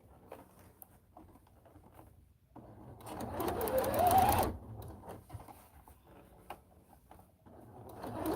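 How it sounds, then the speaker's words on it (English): A sewing machine makes a short burst of edge stitching along the curved strap of a homemade Belle princess costume. It rises out of a quiet room and fades after about two seconds, with faint handling sounds around it. "Oh, edge stitching. Yep, it's also called edge stitching."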